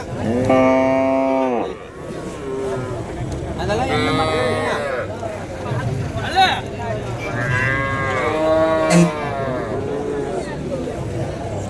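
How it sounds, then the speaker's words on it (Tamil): Cattle bellow in long, loud moos at a busy Tamil Nadu cattle market in Madrapalli, with several calls spread across the scene, while people talk nearby and crowd murmur runs underneath. "மாடு நல்லா அமைதியான மாடு"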